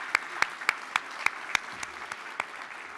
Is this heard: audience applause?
yes